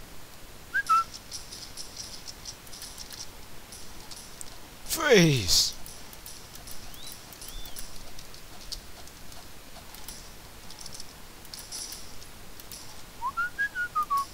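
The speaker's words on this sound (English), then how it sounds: "Oh, I know how to whistle." A person whistles a sharp sliding tone that sweeps down then back up, standing out once mid-way above a faint ticking, rain-like background with a few brief chirps and a spoken word.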